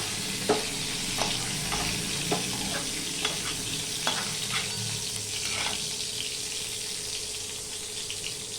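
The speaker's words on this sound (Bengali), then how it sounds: "দিয়ে পটলগুলো আমি ভেজে নেব" Pieces of pointed gourd (potol) seasoned with turmeric and salt fry in hot oil with a steady sizzle, broken by regular scraping stirs, and no one speaks.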